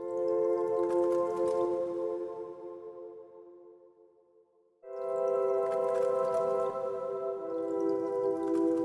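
An ice cream shop sample processed with Valhalla Supermassive reverb and delay becomes a sustained tonal wash that swells, fades almost to silence, then returns just as loud with long shimmering tails and faint dripping textures.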